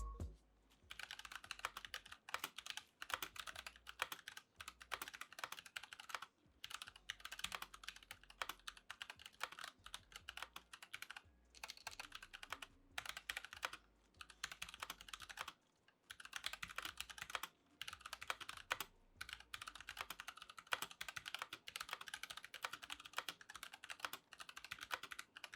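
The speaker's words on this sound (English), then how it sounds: "We'll do a typing test." Fast, continuous typing on a Tempest Kirin V2 wireless mechanical keyboard, dense clacking keystrokes in quick bursts with brief pauses, close and fairly quiet, no talking.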